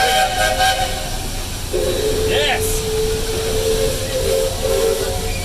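Train whistle at Magic Kingdom tooting a short rhythmic shave-and-a-haircut pattern of steamy blasts, moderately distant over crowd hubbub, while a person cheers nearby.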